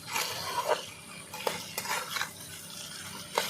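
Pumpkin and dried loitta fish being stirred in a pot, with soft scraping and several sharp spoon knocks against the metal over a low simmering background.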